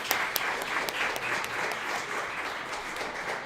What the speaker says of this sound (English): Can we clap it up for all the young women out